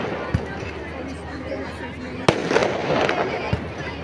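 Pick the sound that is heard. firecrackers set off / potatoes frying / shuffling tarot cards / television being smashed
firecrackers set off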